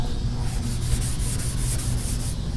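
Maroon Scotch-Brite pad scuffing a car body around its contours and edges before priming, a close, steady abrasive rubbing hiss with faint rhythmic strokes over a low background hum.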